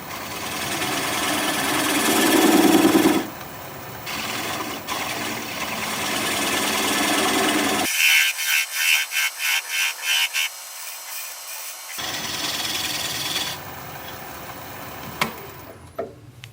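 Plum wood turned on a lathe: a steady motor whir with the gouge scraping against spinning wood, a stretch of rhythmic pulsing cuts in the middle, continuous and fairly loud with no talking.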